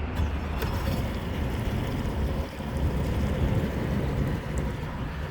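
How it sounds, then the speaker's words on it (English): A Ranger Z21 boat engine on Lake Conroe runs at a steady idle, a continuous close low rumble with wind and water noise mixed in. "We're going to start up the boat."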